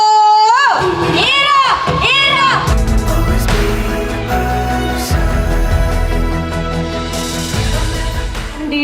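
A lively crowd cheers and whoops loudly to welcome a young performer dressed as Unniyarcha, with shouting voices rising over festive music throughout, continuous and close.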